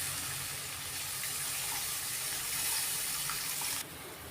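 Water poured steadily into a cooking pan of fried spices and melted tomato for a fish curry, a close, continuous splashing rush that cuts off abruptly near the end.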